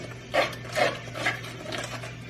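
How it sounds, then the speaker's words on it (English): Spinach artichoke dip ingredients with Alfredo powder being stirred, three or four soft scraping strokes in an even rhythm against a steady low hum, close and fairly quiet. "Then we're going to stir it up."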